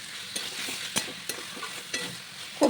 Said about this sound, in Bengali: পেঁপে আলু খুব সুন্দর করে কষিয়ে নেব আরও 2 থেকে 3 মিনিট।